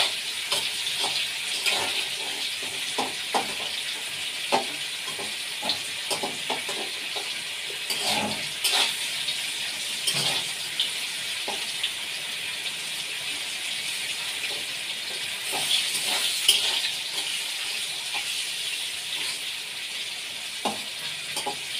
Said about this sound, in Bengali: ওই যে ফুলকপিটা ভেজে তুলে রাখছি